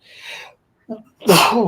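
A single loud, close sneeze bursts out near the end, preceded by a couple of soft breathy sounds in a quiet indoor setting.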